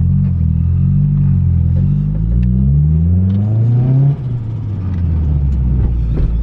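Mitsubishi Evo engine revving hard under acceleration and building boost while driving, a loud, close, continuous rising roar through the gears with a brief dip near the end before pulling again.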